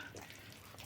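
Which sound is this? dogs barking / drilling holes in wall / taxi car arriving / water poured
water poured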